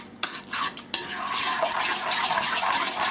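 Runny Yorkshire pudding batter being whisked in a bowl, a few sharp clinks at the start giving way to a steady wet swishing and plopping churn, close and moderately loud.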